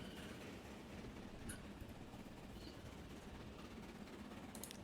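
A steam train in the railway-building game Transport Fever 2 rolls along at its full 75 miles an hour, giving a steady, even rail rumble with faint chirps above it.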